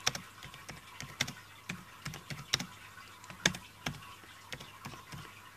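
Typing on a computer keyboard: irregular, fairly quiet key clicks tapping out in uneven bursts over a faint steady background hum, with no talking.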